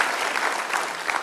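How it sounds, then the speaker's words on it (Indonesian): Applause at a political debate event rings out from a crowd as dense, continuous clapping that fills the whole moment without pause. "Kita beri tepuk tangan Bang Ara."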